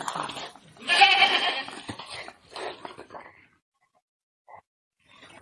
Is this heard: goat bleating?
yes